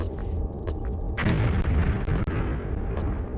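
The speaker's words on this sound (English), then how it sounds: "I don't like those explosion noises I'm hearing sometimes." Booming explosion bursts in a retro video game, a sharp blast at about the midpoint followed by rumbling low-end detonations and scattered pops over steady game background noise.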